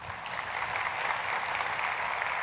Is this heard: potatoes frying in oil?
no